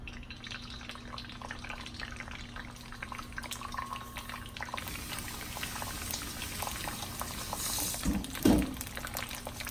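Beaten egg poured into hot oil on medium-high heat, cooking for fried rice with Vietnamese pork sausage and Chinese sausage; a steady, close sizzle and bubbling runs throughout, with a brief louder spatter near the end.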